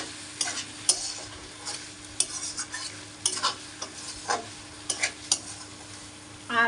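Meat is stir-fried in a pan, close and clear, with repeated spatula scrapes and stirring strokes over a low continuous sizzle and no voices.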